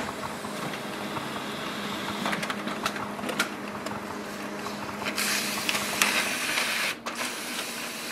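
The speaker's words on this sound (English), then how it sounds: "So you can see it can do the two-sided printing" A Brother HL-L3220CDW colour laser printer running a two-sided print job, with a steady mechanical whir and clicking feed noises that shift partway through as the page reverses, heard close and alone.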